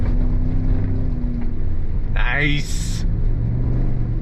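A 2022 Chevy Silverado ZR2 pickup climbs an off-road hill on throttle, its engine a steady low rumble close up inside the cab, with a brief rising whine midway and a short spoken word.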